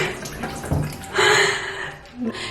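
Tap water runs into a bathroom sink during a morning skincare routine, a steady close splash that swells and fades in short bursts, with faint background sounds.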